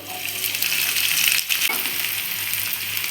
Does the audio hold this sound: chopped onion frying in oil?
yes